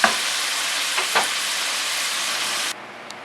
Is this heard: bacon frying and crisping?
yes